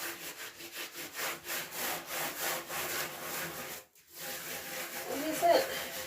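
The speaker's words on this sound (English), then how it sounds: "So give it a good scrub and rub." A finished cross-stitch piece is scrubbed and rubbed while being washed: close, steady, rhythmic rasping strokes that stop briefly partway through, then resume.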